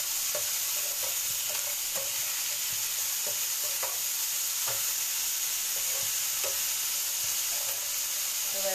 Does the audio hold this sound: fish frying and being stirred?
yes